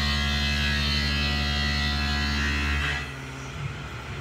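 Tormach CNC mill running a finish pass, a loud steady tonal machine hum with layered harmonics that cuts off abruptly near the end, leaving a quieter low drone.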